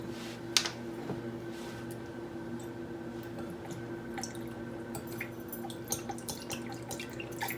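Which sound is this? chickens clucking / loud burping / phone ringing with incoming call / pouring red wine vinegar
pouring red wine vinegar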